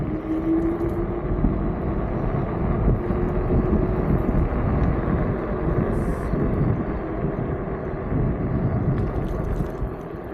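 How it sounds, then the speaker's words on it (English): Teewing X5 electric scooter accelerating hard in gear 3, a steady motor drone buried under heavy, continuous wind rush across the microphone for the whole ride, with no talking. "you touch that throttle, we are moving"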